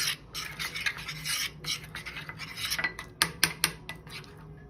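A spoon stirs grated cheese into a butter and garlic masala spread in a bowl, giving close, continuous scraping and rubbing with a few sharper clinks near the end.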